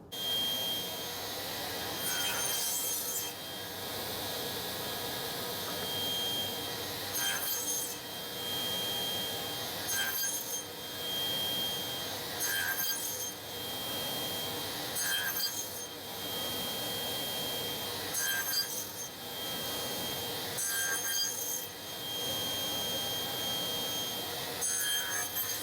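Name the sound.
table saw making multiple passes to cut a rabbet in wood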